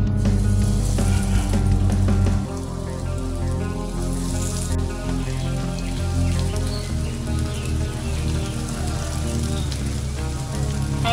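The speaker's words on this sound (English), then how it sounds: "Once the oil is enough hot, then add onion pieces one by one." Onion pieces frying in hot oil in a large skillet, a dense, continuous sizzle and crackle like steady rain, loud and close, with a heavier burst at the start before settling to an even hiss.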